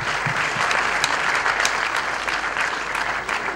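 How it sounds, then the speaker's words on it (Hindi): Audience applause at a fashion show for a social cause, a steady wash of many hands clapping for several seconds, moderately distant and even, with no voices over it. "एक बार जोरदार तालियां हो जाए."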